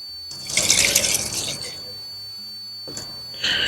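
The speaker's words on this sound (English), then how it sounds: "I'm going to lift this up so I can pour some water under" Water poured under a lifted seed tray in a small garden, a short splashing trickle of liquid close by, then a quiet pause and a brief second splash.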